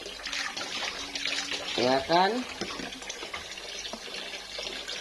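Water is poured out to rinse something in a home washing area, a splashing gush rising briefly in the middle and running on under a person speaking.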